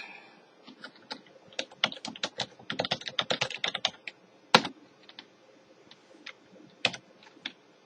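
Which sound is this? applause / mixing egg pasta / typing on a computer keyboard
typing on a computer keyboard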